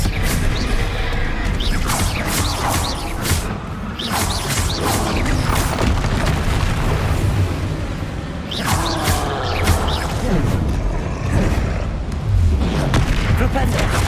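Spell explosions and combat effects in Hogwarts Legacy, with a Bombarda blast among dense, loud booms, crashes and clattering magical impacts that continue without a break, no voices heard.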